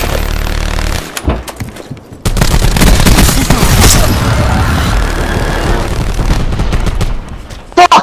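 An automated sentry gun fires in a Call of Duty multiplayer deathmatch, loud rapid bursts of gunfire that stop briefly before resuming as a dense, sustained barrage, with sharp cracks near the end.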